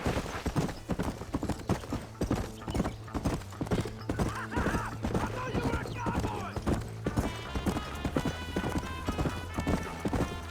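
Horse hooves gallop in a steady, rapid rhythm in a video game, with a horse whinnying and voices and music underneath.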